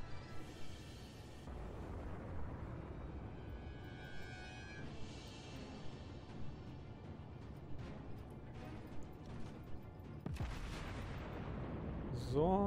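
Battleship main guns firing in World of Warships, heavy booming salvos with rumbling tails spread across the stretch, a sharper loud blast near the end, moderately distant and mixed with game ambience.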